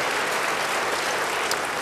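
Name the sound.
congregation applauding in church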